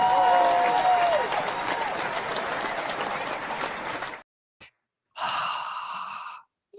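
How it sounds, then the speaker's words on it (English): Applause on a live-streamed show celebrating a broadcast anniversary, a thick wash of clapping and cheering with a brief whistle-like tone near the start, stopping abruptly and followed by a short burst of voices after a pause. "we need to get an applause"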